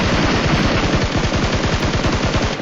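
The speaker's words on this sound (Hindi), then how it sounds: "लेकिन तभी सामने से फायरिंग होती है" Sustained automatic gunfire in PUBG Mobile at Georgopol, loud and close, with rapid evenly spaced shots running continuously from start to finish and no voices.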